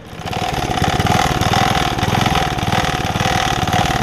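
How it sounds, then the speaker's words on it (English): A small MTD edger engine runs steadily at idle, close and loud, with a slight uneven hunting in its rhythm and a faint rattle throughout. "But it hunts a little at idle, but it runs alright."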